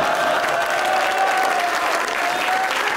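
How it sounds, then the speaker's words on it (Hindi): Steady applause from a studio audience at a Pakistani talk show with politicians as guests, dense and continuous clapping filling the whole stretch at close range. "इसमें ताली नहीं बजानी थी"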